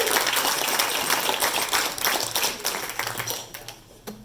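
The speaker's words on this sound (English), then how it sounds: "So give yourself a big round of applause." A crowd at a Lions club installation ceremony claps steadily for a few seconds, a dense patter of hands that gradually thins and fades toward the end.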